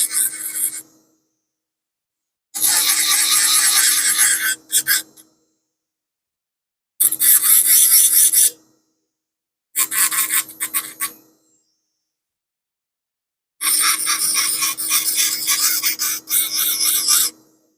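Dental prosthesis work smoothing the borders of a denture base, the frenum area relieved: bursts of loud rasping filing, each a few seconds long, separated by silent gaps, close up with no talk.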